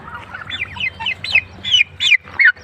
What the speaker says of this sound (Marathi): हा पक्षी बघा ही मादी ही टर्कीची मादी